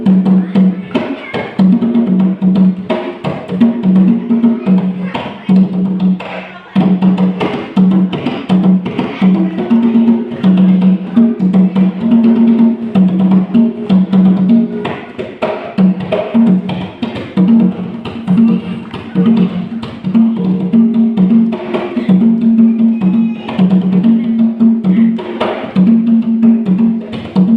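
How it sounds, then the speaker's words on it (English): Palogo, a traditional African instrument, played in a steady looping melodic pattern with bright repeated tones, loud and close throughout. "So that's the sound of Palogo."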